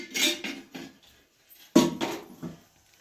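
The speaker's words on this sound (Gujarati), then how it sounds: "બધી ડીશું લઈને આટા મારે છે" Dishes and steel utensils clatter in a home kitchen as a child carries them around, a few sharp clinks and knocks in two short bursts separated by a brief quiet gap, close by.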